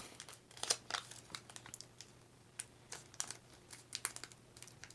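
Paper being creased and folded for an origami Rodan, with close, crisp crinkles and sharp creasing snaps in an uneven rhythm and no speech.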